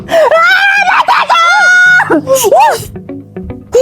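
A woman screams loudly, with several shrill, wavering cries in quick succession in a tense scene, followed by quieter sobbing and whimpering sounds.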